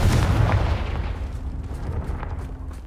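A Confringo blast in Hogwarts Legacy bursts out as a heavy, booming explosion that rolls off into a rumbling tail with faint crackles, loud and close, with no speech over it.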